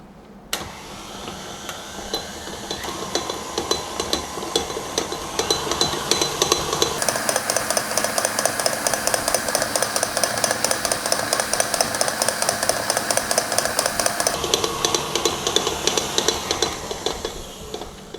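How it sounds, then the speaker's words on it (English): A KitchenAid stand mixer beats cream cheese smooth on medium speed for cheesecake, a steady whirring motor drone with rhythmic beater knocks against the bowl, growing louder midway and running continuously with no talking. "get the KitchenAid and fix a bowl and then start beating on medium speed until I have the cream cheese become smooth."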